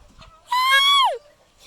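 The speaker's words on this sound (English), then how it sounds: "Oh my god, tiny rooster!" Small rooster crowing once, a short close and clear call rising and then dropping off, with faint chicken sounds around it.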